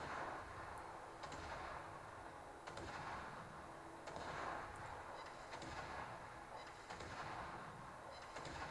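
Warship gunfire in World of Warships, a Smaland destroyer firing its front gun while speeding forward: distant booming shots repeat at roughly one-and-a-half-second intervals over a constant rushing hiss of wind and sea.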